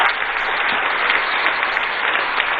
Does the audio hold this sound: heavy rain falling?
no